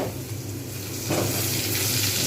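Snake gourd fries in a pan with a constant sizzle and hiss, growing slightly louder partway through.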